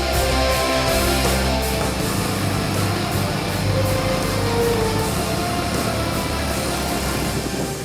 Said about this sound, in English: Hit the road and you have a simple single-cylinder 150cc engine with a 2-valve head.